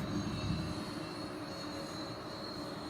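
A Freewing A-10 RC jet with twin 64 mm 12-blade electric ducted fans runs at full throttle, a steady high, airy whine and rushing roar that holds evenly, alone without voices.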